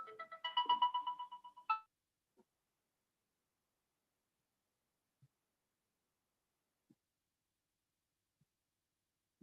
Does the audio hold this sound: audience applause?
no